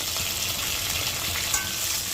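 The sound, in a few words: onions and chopped tomato frying in a pan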